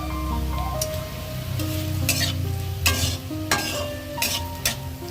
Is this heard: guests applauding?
no